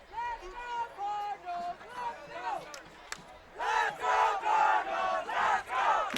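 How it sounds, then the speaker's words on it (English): A high school football crowd at a Culver City versus Lawndale game chants rhythmically to urge on the defense, the chant starting modestly then growing louder and more unified. "Crowd now exhorting the Cardinal defense to get the ball back."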